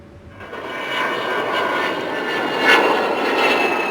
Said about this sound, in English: They came to see the Vulcan's fine lines and hear its unique howling noise.